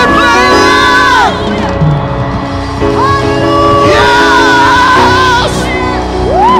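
A crowd at a campus worship night on the Northwest University Potchefstroom campus shouts and cheers loudly in praise, with whoops and yells rising in repeated waves, close and energetic throughout.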